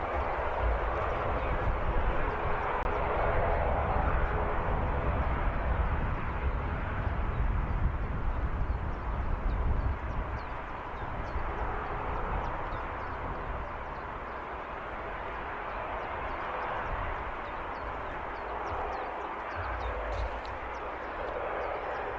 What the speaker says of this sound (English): Airlinger ATR 72 coming out.